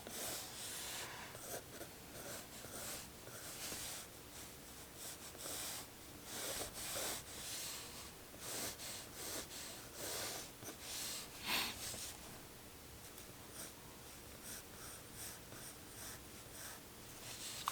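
Mickey Mouse being drawn by hand, with close scratchy pen or pencil strokes in irregular bursts across the page, some soft breathing in between.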